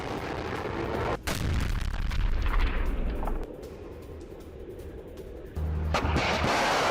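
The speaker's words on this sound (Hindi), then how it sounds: "बैलिस्टिक मिसाइल से कीव पर यह हमला।" Ballistic missile explosions during a Russian strike on Kyiv, heard as heavy booming blasts and rumbling roar that swell, drop away for a couple of seconds, then return loud and sustained.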